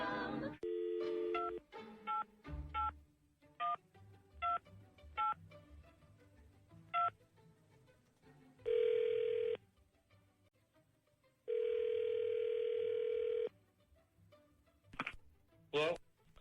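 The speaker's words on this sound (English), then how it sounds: "Dialing at random." A telephone being dialed, with a series of short touch-tone beeps at irregular intervals, and two longer steady tones between, clear and close in a quiet room.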